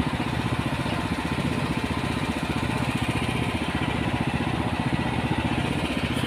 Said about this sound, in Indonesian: Ini di atas rek-rek pengeboran, mesin pengeboran.